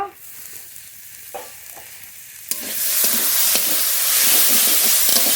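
A bean and potato curry with turmeric and fish is stirred in a hot pan. Quiet, scattered scrapes come first, then a loud, steady sizzle swells up and keeps going, broken by sharp clinks of the spoon.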